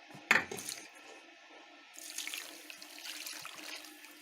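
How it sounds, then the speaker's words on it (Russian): A glass of water is emptied into a cooking pot for a pork belly brine: a sharp knock, a short pause, then a close splashing pour that tapers off, with no talking. "Теперь нам нужно вылить 5 таких стаканов воды."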